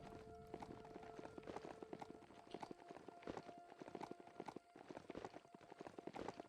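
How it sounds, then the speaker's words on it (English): Rapid clip-clop of horse hooves galloping steadily in the video game Biomutant, close and continuous, with a faint tonal hum running underneath. "Let's ride out of here on with the horse I rode in on"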